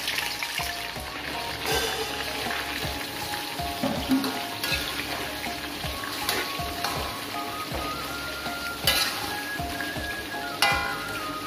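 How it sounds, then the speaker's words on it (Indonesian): Chicken pieces frying in oil for a sweet-spicy soy sauce chicken dish give a steady, busy sizzle with scattered crackles and stirring knocks throughout, close and fairly quiet, with no talking. "Pertama-tama daging ayamnya kita goreng sebelum diberi bumbu kecap ya"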